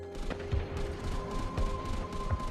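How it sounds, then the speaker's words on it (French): Anti-aircraft guns firing, a run of heavy distant thumps repeating at roughly half-second to one-second intervals over a continuous low rumble, with no talking. "Et puis, les canons anti-aériens ont ouvert le feu."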